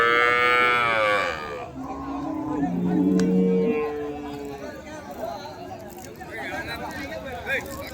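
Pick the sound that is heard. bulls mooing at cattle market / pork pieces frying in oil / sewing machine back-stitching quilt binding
bulls mooing at cattle market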